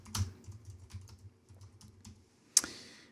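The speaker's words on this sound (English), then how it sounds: "you can type in a piece of sample text here" Sample text being typed on a computer keyboard, with a run of soft, irregular key taps followed by one sharper, louder click near the end, in a quiet room.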